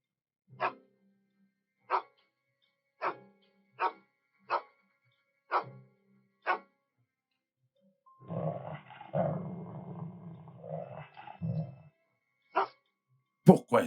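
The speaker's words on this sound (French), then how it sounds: "Pourquoi est-ce que Scott aboie?" A dog named Scott barks in a run of six sharp, evenly spaced barks, then breaks into a longer stretch of growling and snarling, with a final burst of barking at the end.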